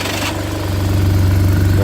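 A BMW R1200RT police-spec motorcycle with a Stand Tune complete exhaust system idles nearby, its engine settling into a loud, even, low tick over after a brief burst of higher noise.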